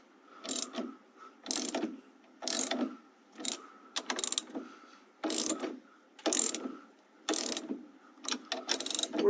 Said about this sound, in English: I can also tighten down on the individual bolts.